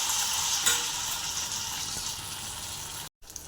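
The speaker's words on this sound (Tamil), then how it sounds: "இந்த மாதிரி மிக்ஸ் பண்ணி ஆயிலில் போட்டு பொரிச்சுக்குவோம்" Paneer pieces coated in a mixed batter deep-frying in hot oil, with a steady, loud, close sizzle throughout and a brief break near the end.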